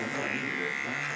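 An electric hair clipper motor hums and buzzes steadily at close range while a barber cuts a low fade with a textured top.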